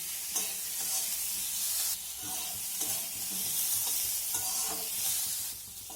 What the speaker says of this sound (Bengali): এইভাবে নাড়াচাড়া করে করে এই টমেটোটাকেও একটু নরম করে নিতে হবে।